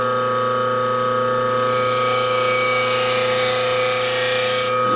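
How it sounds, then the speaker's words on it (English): A high-speed steel turning tool getting a quick touch-up on a sharpening system, with a loud steady grinding whine over a constant motor hum, close and continuous. "If you have high-speed steel tools, you need to have a system for sharpening them."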